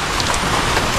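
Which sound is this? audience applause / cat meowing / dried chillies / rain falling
rain falling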